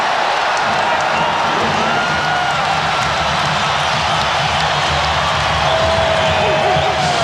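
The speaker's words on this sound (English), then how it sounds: "Standing ovation from this capacity crowd in Chicago" A capacity crowd in a Chicago basketball arena rises in a standing ovation, a steady roar of cheering and applause that fills the whole stretch, with an announcer talking over it.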